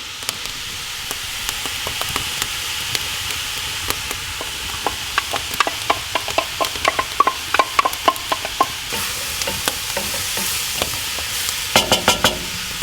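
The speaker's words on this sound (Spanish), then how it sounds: "Ahora el ajo. ¿Escuchan cómo cruje?" Garlic crackling and sizzling as it fries for ossobuco in a pan over a wood fire in a fireplace, with dense irregular pops and snaps over a steady hiss, close and fairly loud, no talking.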